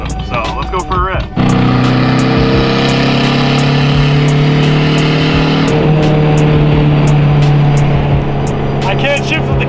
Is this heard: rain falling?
no